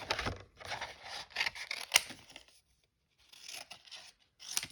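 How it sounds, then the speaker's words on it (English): Scissors fussy cutting a small paper cupcake shape for a handmade birthday card notebook: close, crisp snips in quick bursts, a short quiet pause, then a few more cuts. "So I'm going to just very simply fussy cut it."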